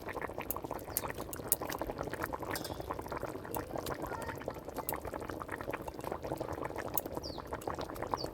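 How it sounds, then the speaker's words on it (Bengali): Green jackfruit curry with egg pieces bubbling in a wok, a quiet steady simmer of frequent small pops and bursts, close and continuous with no talking. "আমার এঁচোড়ের তরকারিটা খুব সুন্দরভাবে ফুটছে"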